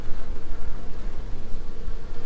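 Dense, steady buzzing of many honeybees up close in an open hive, a continuous humming swarm with no voices.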